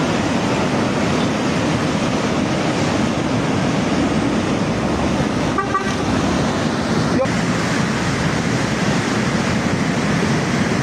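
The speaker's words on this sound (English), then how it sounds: "Ice waves occur when layers of melting snow and ice are pushed ashore by wind and currents" Layers of melting snow and ice pushed ashore by wind and currents, a steady dense grinding and rushing wash that holds at an even loudness throughout, with a couple of brief sharper cracks partway through.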